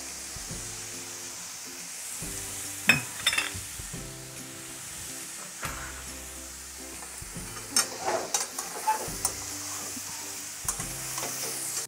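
Radish frying in a pan with crushed lentil dumplings, a steady sizzle broken by sharp scraping stirs of a spatula at irregular intervals.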